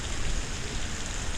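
Steady rain falling outdoors, a dense, even hiss of drops at moderate loudness that continues without a break and has no voices over it.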